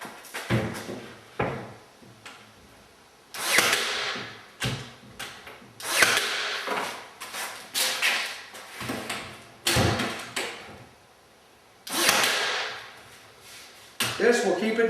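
A Ryobi Airstrike cordless nailer tacks a sink base cabinet in place, with sharp, close pneumatic-sounding bangs repeated about every one to two seconds, interspersed with clunks of handling and the tool being repositioned.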